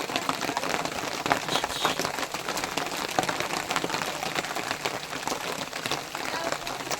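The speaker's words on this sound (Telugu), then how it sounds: "చూసారా, వర్షం పడుతుంది" Rain falls steadily at a tourist spot near the Araku waterfalls, a dense even patter with no break, fairly quiet and unbroken.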